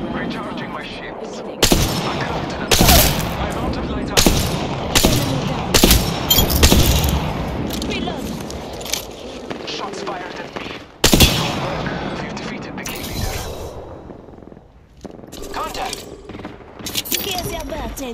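Rapid gunfire bursts from Apex Legends on the World's Edge map crack loudly and close, in repeated volleys separated by short pauses, with game voice callouts faintly underneath.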